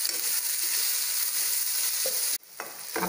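Onions sauté in a pan with a loud, continuous sizzle that cuts off abruptly near the end, followed by a few quieter scraping stirs.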